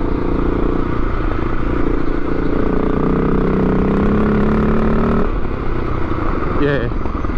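A 650 motorcycle engine drones steadily up close, its pitch rising as it revs and then dropping, with a voice talking over it throughout.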